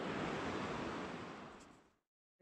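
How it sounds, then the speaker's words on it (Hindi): A river flows beside a mountain trail on the way to Yarma Gompa. A soft, steady wash of rushing water fades away and drops to silence near the end. "नदी बह रही है यहाँ पे"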